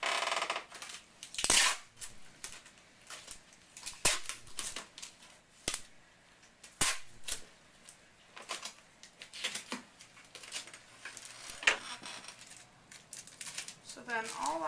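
Pieces of tape are torn while wrapping a gift basket, making several sharp ripping and crinkling bursts scattered among quieter handling noises.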